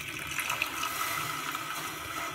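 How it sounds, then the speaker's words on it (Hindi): Half a cup of water poured into a pan of jaggery while making golden syrup, a steady close splashing trickle lasting a couple of seconds with no talk over it. "ये वाला हाफ़ कप जो है पानी डाल दें"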